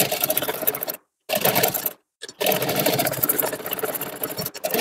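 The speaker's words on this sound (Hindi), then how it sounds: "एक सिलाई मैं सोच रही हूँ और लगा दूँ" Electric sewing machine stitching a lehenga, a loud, close, steady whirring run that stops briefly twice and then carries on continuously, with no talk.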